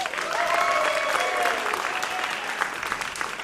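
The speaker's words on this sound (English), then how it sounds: "Big round of applause." Theater audience at a vaudeville show in the Darress Theater bursting into applause, a full crowd of clapping that swells early and then tapers slightly, with faint cheering tones riding over it.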